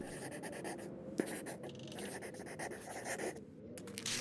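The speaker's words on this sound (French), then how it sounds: "saisit un crayon et mit du temps à écrire un message dans son français laborieux." A pencil scratches a message onto paper in steady, close, dry strokes with short pauses between them. No voices are heard.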